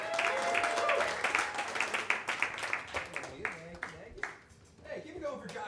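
A comedy club audience applauds and cheers as a comedian is brought on, the clapping filling the room in dense bursts. A host talks over the applause.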